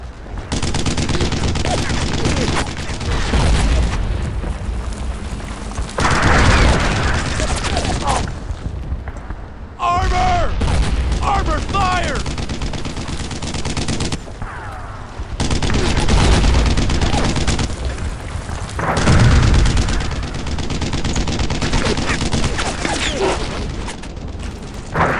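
Heavy gunfire aimed at a tank in Brothers in Arms: Earned in Blood, with loud sustained machine-gun bursts and booms in repeated waves and short breaks where voices shout.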